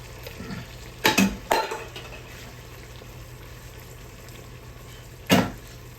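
Beans are stirred into a pot of barbecue baked beans: a soft bubbling bed with a few distinct spoon clanks and scrapes against the pot, close by and spaced apart, no talking.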